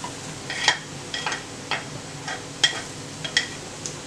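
Onions and mushrooms cooking in oil in a pan, with a low steady sizzle and a handful of sharp clinks and scrapes as they are stirred, close and fairly quiet.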